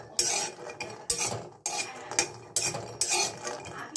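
Cashew nuts dry roasting in a pan, stirred with a metal utensil that gives repeated scraping and clinking strokes at a steady rhythm, fairly close and moderately loud with no talking.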